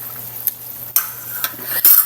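Chicken in pineapple juice stirred in a sizzling pan, with a steady low fry hiss broken by a few sharp scraping strokes of the utensil against the pan.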